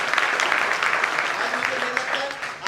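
Audience applause for a speaker at a Hindi motivational gathering, a steady patter of many hands clapping at moderate level, with some voices mixed in.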